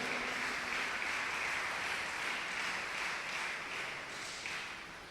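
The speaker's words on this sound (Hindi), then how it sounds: "आप सबकी भरपूर तालियों में से" Church congregation applauding at a Sunday Mass for lay ministers being introduced, a steady dense wash of clapping that carries evenly throughout and eases off slightly near the end.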